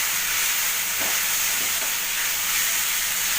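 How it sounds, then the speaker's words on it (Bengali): Bhetki fish curry with a pinch of turmeric sautéing in a pan over medium-low flame, a steady bright sizzle with a few soft stirring scrapes, close and without talk. "আচ্ছা, এবার এটা খুব ভালো করে কষাবো।"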